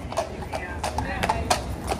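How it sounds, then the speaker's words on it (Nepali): Police horse hooves clip-clop on a London street in a quick, even rhythm of close, clear strikes, heard under nearby voices talking. "आए आए घोडा"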